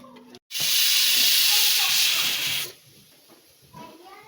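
Pressure cooker steaming over cooking tapioca (kappa) for a banana-leaf kappa biriyani: after a brief pause, a loud, steady hiss of escaping steam bursts out for about two seconds, then drops to a faint background hiss.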